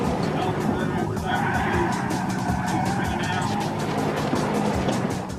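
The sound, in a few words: fleeing American car skidding around bends in police chase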